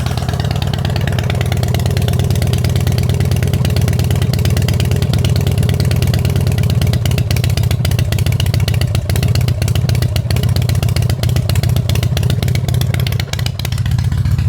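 A 1990 Harley-Davidson Fat Boy fitted with an S&S Super E carburetor idles loud and close, holding a fast, lumpy idle with steady mechanical clatter and no break.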